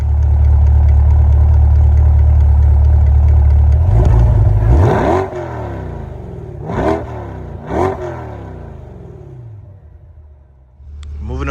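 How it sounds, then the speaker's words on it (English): A C8 Corvette V8 idles with a loud, deep rumble, then is blipped three times, each rev rising sharply and falling back, before the engine settles quieter. "I'm gonna give y'all some revs in a second."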